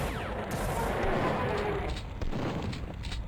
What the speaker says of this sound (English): Who's shooting at me with a shotgun?